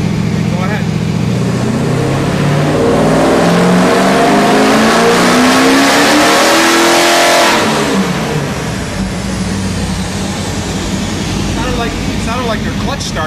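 A 1990s-era LT1 Trans Am with a 7 psi Procharger supercharger roars on a dyno, revs climbing steadily and loudly up close for about seven seconds before the throttle lifts and the engine settles back, with voices around.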